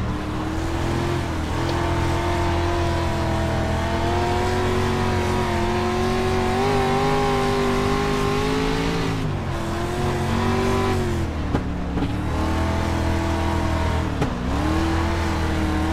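Dirt street stock race cars run at Volusia Speedway Park, a loud, steady engine drone that rises and dips in pitch as the cars lap close by, with no talk over it.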